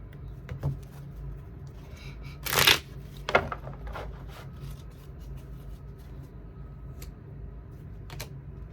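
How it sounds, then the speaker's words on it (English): Tarot cards shuffled and handled at close range, soft riffling with a sharp burst of card flicks midway and scattered light taps after. "So let's clarify some of these cards."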